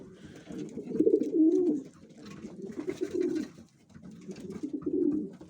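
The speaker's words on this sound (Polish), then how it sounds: "Gołąbki są właśnie tak pięknie oswojone." Tame pigeons being fed by hand coo in soft, throaty rolling phrases, three or four bursts rising and falling close by, with nothing else over them.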